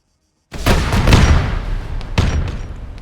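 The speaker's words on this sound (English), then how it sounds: "So I'm trying to use those missile launchers." Missile launchers fire in a Warhammer video game: a heavy booming blast erupts after a short silence, rolls on, and a second thudding detonation lands near the end, loud and close.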